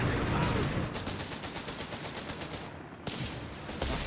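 Mines exploding in the distance during a Company of Heroes 3 battle, set in a dense, continuous wash of rumbling blasts and rapid gunfire-like cracks that fills the whole stretch at a steady level.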